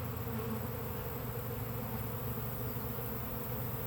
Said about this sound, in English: It's good to inspect the swarm closely.